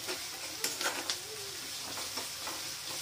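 Spices and chilies sautéing in a pan for a Maharashtrian pithla give off a soft, steady sizzle, with a few light clinks and stirring scrapes standing out nearby.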